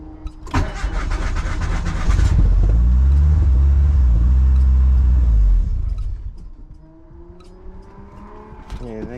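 A 1991 Mitsubishi Galant VR-4 with its 4G63 engine being started after ECU work: a starter whir, then the engine catches and roars loudly with rough, rumbling revs before dying down a few seconds later, with a voice nearby.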